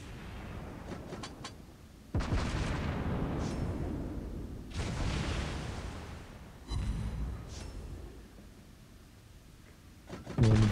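Heavy naval gun salvos from warships in World of Warships Blitz, three loud booming bursts spaced a few seconds apart with rumbling tails, plus a sharper thump at the end and faint game ambience between shots.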